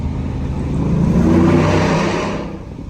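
A 2021-2023 Ford F150 truck accelerates hard over a bridge, its engine roar swelling to a peak midway and then easing off as it passes.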